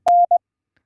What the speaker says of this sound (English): And this is the sound of N.